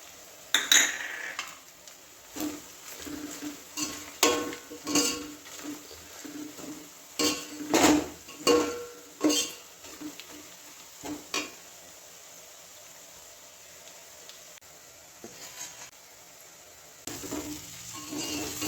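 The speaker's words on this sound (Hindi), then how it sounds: "अब इसमें धनिया पाउडर डालकर चला ले।" A spoon scrapes and clinks against a pan as coriander powder is stirred into chicken pulao, in irregular bursts of metallic taps and scraping over a faint sizzle, with quieter stretches between.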